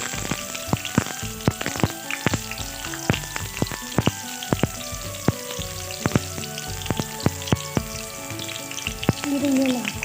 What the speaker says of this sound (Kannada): ಸೊ ಈಗ ಎಣ್ಣೆ ಕಾಯಿದೆ, ಇದಕ್ಕೆ ಈರುಳ್ಳಿನ ಹಾಕ್ಕೊಂಡಿದ್ದೀನಿ.